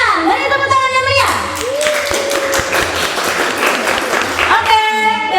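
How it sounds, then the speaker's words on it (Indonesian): A classroom of pupils bursts into lively applause during a teaching-practice session, dense clapping filling most of the stretch, with children's and adult voices talking before and after. "Beri tepuk tangan yang meriah."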